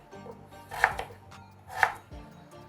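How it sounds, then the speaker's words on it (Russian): A knife cuts raw potatoes into sticks on a cutting board for fried potatoes, producing two crisp, close chopping knocks about a second apart, with no talk. "И нарезаю ее брусочками."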